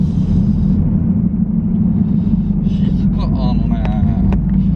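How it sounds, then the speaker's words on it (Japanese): A low, steady engine and exhaust rumble from a Toyota GR Yaris with a Yashio Factory super-silent titanium muffler, quiet and smooth, with brief higher sounds near the end. "ヤシオファクトリースーパーサイレントチタンマフラー、すげえ静かです。"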